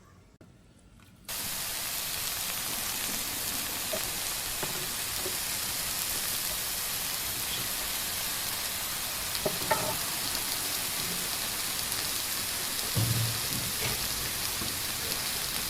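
Namak pare dough deep-frying in hot ghee or oil, a dense, even sizzle that starts abruptly and holds steady and close, with a few faint clinks of stirring.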